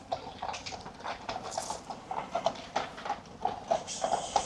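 Big draught horses clip-clop on pavement in Copenhagen, a steady rhythmic run of sharp hoof knocks, fairly close and clear with light street background.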